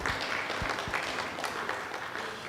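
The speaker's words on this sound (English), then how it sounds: "You can give us a round of applause." Audience at a live event applauding, a fairly quiet, brief patter of clapping spread across a couple of seconds with no voices over it.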